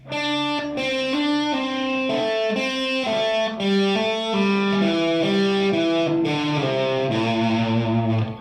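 Distorted electric guitar plays a flowing run of hammer-ons and pull-offs starting from the fifth measure, notes stepping in quick legato succession, up close and continuous without talk.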